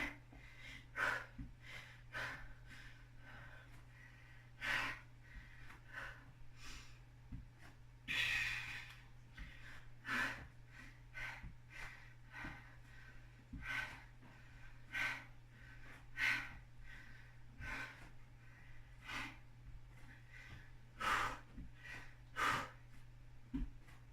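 Heavy, rhythmic breathing during a HIIT workout, with repeated sharp exhales and snorting breaths over a steady low hum, close and fairly faint, with no talking.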